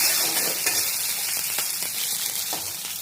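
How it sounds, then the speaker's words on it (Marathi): Garlic sizzles in hot oil for a Marathi-style tempering, a steady bright crackle and hiss held close throughout with small spattering pops and no voices. "तिथे लसूण टाकला मी आता फोडणीला."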